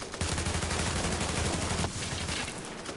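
Rapid automatic gunfire in The Division as a player shoots down an enemy turret, a dense continuous burst of shots close up that briefly thins before resuming.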